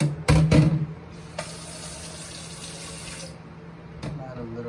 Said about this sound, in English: We add some water in there.